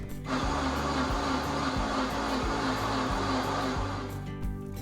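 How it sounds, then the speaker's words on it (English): A blender pureeing birria sauce with beef broth runs on high as a loud, steady whirring roar, starting abruptly and holding constant until it cuts off near the end. "Blend on high for about 2 minutes until pureed."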